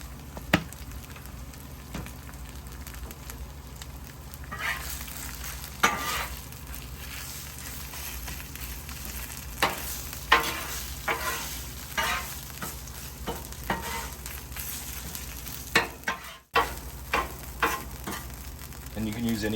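Shredded pulled pork with Carolina Gold barbecue sauce sizzles steadily in a pan while a utensil scrapes and stirs it in irregular strokes, close by, with a voice talking over it at times.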